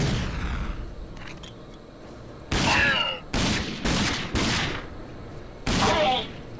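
Grenade blasts and gunfire in the shooter game RAGE ring out as four loud, sharp bursts at uneven intervals over a quieter rumbling background, with no voices.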